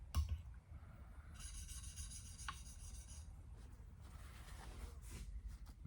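A woodworking tool's tip is honed on a sharpening stone, giving faint, steady rasping strokes. Two longer rubbing passes stand out against a low background hum, with no talking.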